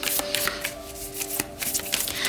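Tarot cards being shuffled close by, a dense papery riffling and flicking that runs continuously with a few sharper snaps.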